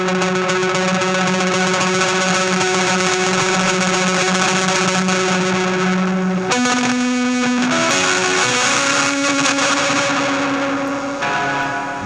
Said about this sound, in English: watch what happens when you crank the reverb volume. You get a lot more breakup from the fuzz.